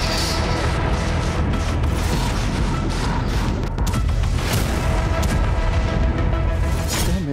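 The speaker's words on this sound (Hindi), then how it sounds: "देखिए लगातार आप सुन रहे होंगे धमाके की आवाज।" Explosions on a front line of the Ukraine war come as a loud, continuous rumble with heavy booms and crackling blasts throughout.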